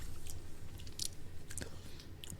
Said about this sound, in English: A lot of clicking mouths